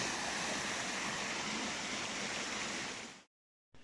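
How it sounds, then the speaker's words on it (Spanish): A small mountain stream of clear water, falling from the mountain near the Greek village of Mikro Papigo, rushes in a steady, close, broadband flow that cuts off abruptly near the end and briefly returns. "miren este arroyuelo. Qué interesante, o sea, esta agua viene cayendo de la montaña, totalmente cristalina"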